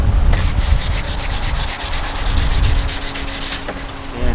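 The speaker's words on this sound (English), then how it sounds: "just take 180 grit sandpaper and scuff it up a little bit" A pool deck drain is scuffed with 180 grit sandpaper, a loud close rasping rub in quick back-and-forth strokes that runs almost without pause.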